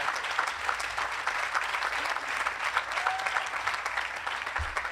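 Steady, dense applause from a graduation ceremony audience fills the whole stretch, even and sustained with no speech over it.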